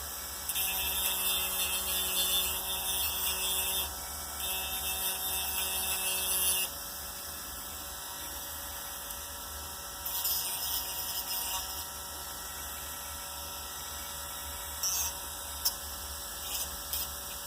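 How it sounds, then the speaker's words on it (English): A small handheld grinder smooths model stairs made of hardened baking soda and super glue. Its high, thin whine comes in bursts that stop and restart over a steady low hum. "They can be, you can hit them with the grinder."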